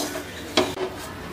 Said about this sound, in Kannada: ಕೈ ಬಿಡದಂಗೆ ಒಂದು 5 ನಿಮಿಷ ಇದನ್ನ ತುಪ್ಪದಲ್ಲೇ ಹುರ್ಕೊಳ್ಳೋಣ